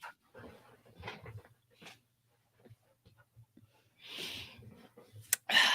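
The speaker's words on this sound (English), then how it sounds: "Well, that's my dog." A dog whimpers and snorts softly in short, scattered bursts close by, with faint human talk in between and a louder rustle near the end.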